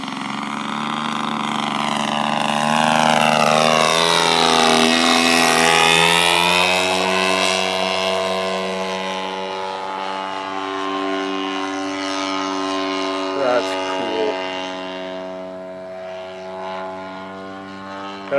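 A Carbon Cub RC model airplane, flown with flaps down, makes a touch and go with a loud, steady propeller drone whose pitch rises and falls as it passes close by, with no talking.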